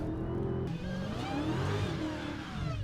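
A supercharged Dodge Challenger Hellcat muscle car engine revs loudly up close, a deep growl that rises, dips and climbs again in quick surges.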